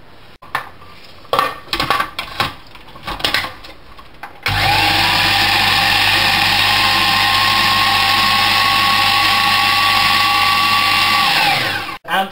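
An electric blender runs steadily for about seven seconds, mixing cake batter with oil, then winds down, after a few clatters and knocks of kitchen utensils.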